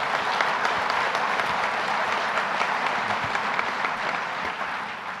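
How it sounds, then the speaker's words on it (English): A crowd applauds Lieutenant Governor Kathy Hochul at an economic development event, with continuous dense clapping at a steady level that fades slightly toward the end. "let's give her a round of applause"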